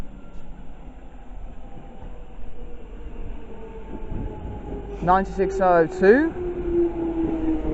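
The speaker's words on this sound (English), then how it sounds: "is the London Underground Jubilee Line, so it's bound for Wembley Park." A London Underground Jubilee Line train bound for Wembley Park rumbles low and steady at Dollis Hill station. A brief, pitched squeal rises over the noise midway, with faint talk in the background.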